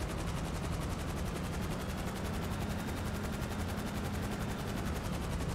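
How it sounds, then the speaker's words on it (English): Sustained rapid gunfire in Grand Theft Auto Online as a player shoots out vehicle tires, a dense continuous rattle of shots over a steady engine-like drone, loud and unbroken throughout. "let me shoot the tires"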